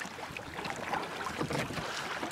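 A kayak moves across open water with a continuous close, breezy wash and faint paddle splashes under wind noise.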